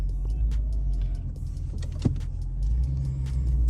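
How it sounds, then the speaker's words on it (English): A 2019 Ford Mustang GT on a test drive after new struts were fitted, a steady low engine and road rumble inside the cabin, with a single brief click midway and no talking. "now let's do a little test drive and see how this thing drives with the new struts"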